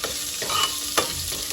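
Onion and tomato fry in hot oil, with a steady close sizzle and a few scraping stirs of a spoon through the pan.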